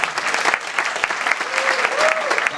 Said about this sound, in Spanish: Vamos aplaudir o Senhor por la vida de ela.